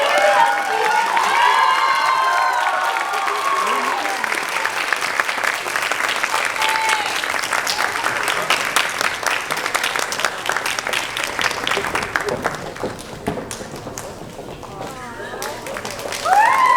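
A pageant audience applauds and cheers, loud sustained clapping mixed with shouts and excited voices, some children's, rising early and then slowly thinning toward the end.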